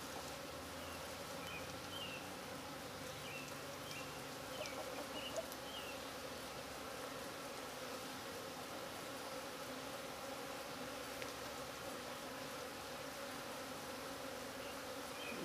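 Honeybees buzzing around an opened backyard hive during routine maintenance, a steady, soft swarm drone with individual bees flying past, and no voices.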